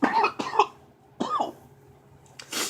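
A sick person coughs several times at close range, harsh bursts separated by short pauses, with a throat-clearing rasp mixed in and a final rough cough at the end.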